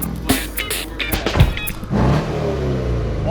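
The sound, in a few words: Corvette engine with aftermarket exhaust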